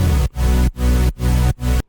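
Super saw synth chords pump under heavy sidechain, swelling and ducking in four quick, rhythmic pulses with sharp gaps between them, loud and alone.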